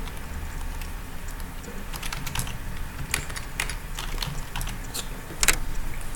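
Fast, irregular clicking of keys on a computer keyboard, close by, with a low hum underneath and a slightly louder burst near the end.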